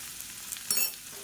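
Vegetables sautéing in hot oil give a soft, steady sizzle, with a brief louder burst of stirring in the middle; no voices.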